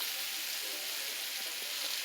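Cabbage and kielbasa seasoned with cinnamon, clove, salt and pepper fry in a pan, giving a steady close hissing sizzle throughout with faint crackles and no talking.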